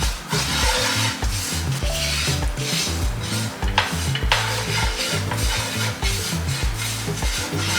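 A spoon stirs and scrapes around a pan as sugar and black pepper are mixed into a sauce for cereal butter tofu, a busy run of rasping, rubbing strokes with no talking.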